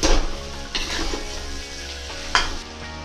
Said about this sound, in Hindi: सारा आलू इसमें मिक्स कर दीजिए